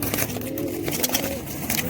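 A high flyer pigeon gives close, low, throaty coos in a short burst, with outdoor background noise around it.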